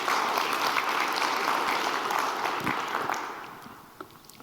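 Audience clapping after a game development conference talk, a steady round of applause that tapers off and fades over several seconds.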